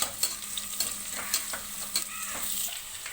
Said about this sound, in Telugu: ఫ్రై చేసుకోవాలన్నమాట